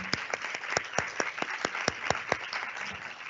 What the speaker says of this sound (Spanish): un aplauso ahora para el panel